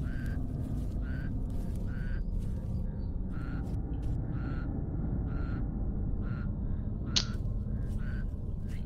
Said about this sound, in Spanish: ¡Que hay un pato, boludo!